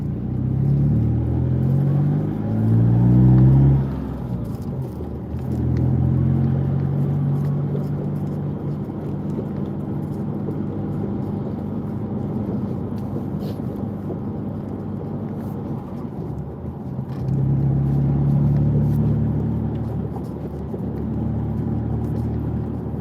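A car drives steadily with a continuous low engine rumble and road noise, the engine note rising briefly near the start and again later, heard from inside the vehicle with no talking.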